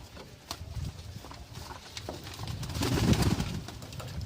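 Pigeons coo and flutter close by during road training and bathing, with soft wing flaps and scuffling over a steady background hiss that grows louder toward the end.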